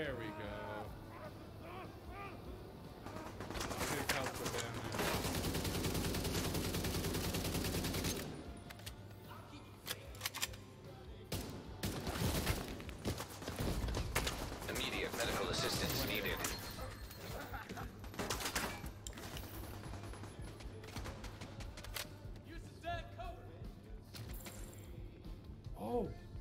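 Gunfire from a shooter game session, with dense bursts of shots loudest early on and scattered rapid firing continuing throughout, mixed with game effects.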